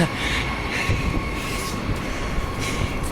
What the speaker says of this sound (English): Oh, there it goes.